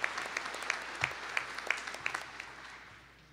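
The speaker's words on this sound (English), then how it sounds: "Please join me in a round of applause for them to thank them for their service." Applause from a commencement audience at a School of Business ceremony, honoring student veterans; scattered, moderately quiet clapping with a few sharper claps standing out, gradually thinning toward the end.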